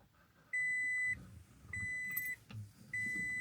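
An OBD2 scan tool gives three steady electronic beeps, each lasting roughly half a second, spaced about a second apart and loud and close over a low background hum.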